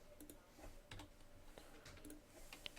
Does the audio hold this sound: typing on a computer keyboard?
yes